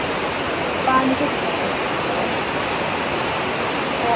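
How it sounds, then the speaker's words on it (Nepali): Rushing rainwater flows continuously nearby, a loud, steady broadband roar with no pauses. "पानी आएकोले गर्दा यी आवाज तपाईँले सुन्नु सक्नुहुन्छ है।"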